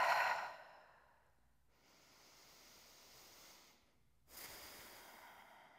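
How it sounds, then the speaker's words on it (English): Deep breaths taken while lying down during a yoga session, a strong close exhale fading out, then a softer, longer breath and another airy breath rising near the end, with no talking. "Take a breath."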